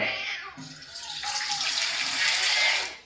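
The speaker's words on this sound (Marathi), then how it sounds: "हो हो ओतून द्या इकडे ठेवा" Water pours in a steady, hissing stream for a couple of seconds, growing louder before trailing off, with a brief voice near the start.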